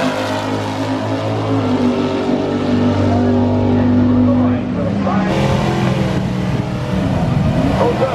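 Drag racing car launching at a Los Angeles drag strip, a loud sustained engine roar that holds steady then surges and shifts in pitch as it pulls away, with voices mixed in.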